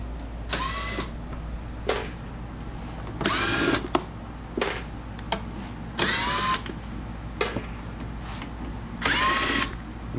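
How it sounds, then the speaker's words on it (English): Electric screwdriver with a Phillips head backing screws out of a cart's body covers: several short whirring bursts, each a second or so, separated by pauses over a steady low garage hum. "we're gonna take the electric screwdriver, Phillips head"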